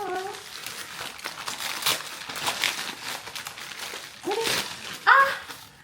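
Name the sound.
opening a plastic package from an unboxing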